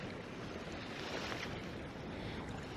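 Wind buffets the microphone over choppy waves on a lake during winter crappie fishing from a boat, a dense continuous rush with water lapping close by.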